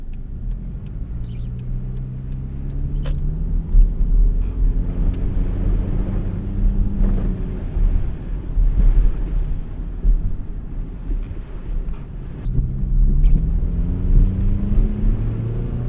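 Inside a front-wheel-drive car on a snowy road, a steady low engine and road rumble continues with wind buffeting. Engine tones rise and fall gradually as the car drives on.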